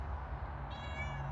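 A cat gives a single drawn-out meow, close and moderately loud, in a van-life setting with low background rumble.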